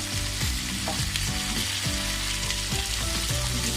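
Cumin, mustard seeds and cut potato fry in hot oil, a loud close crackling sizzle broken by quick rhythmic scrapes of a spatula, no voices.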